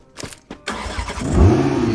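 A Nissan car engine in the video game Free Fire MAX starts after a few short knocks, then settles into a loud, steady low rumble that rises briefly as it revs near the one-and-a-half second mark.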